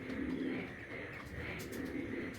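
A gora pigeon coos softly and repeatedly at close range, low rolling calls over a steady background hum, with a few faint clicks.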